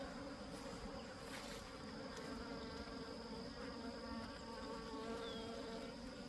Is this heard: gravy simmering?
no